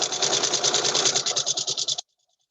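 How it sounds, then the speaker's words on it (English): Sewing machine stitching a quarter-inch seam on a quilt block, a fast even rattle of needle strokes that runs loud and close for two seconds, then stops abruptly into silence. "I'm sewing a 1/4 inch."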